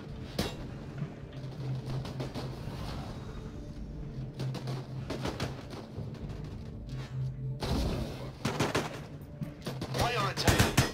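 Rapid bursts of sci-fi gunfire from combat units in the video game Disintegration, repeated volleys in clusters with brief gaps, loud and close over a low droning engine hum.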